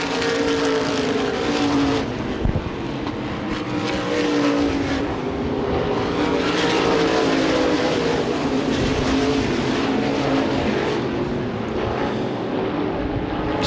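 Modified race cars roar around Lucas Oil Raceway in Indianapolis during a 2013 ICAR modifieds race, a loud, continuous blend of engines swelling and fading as the cars pass, with no talking.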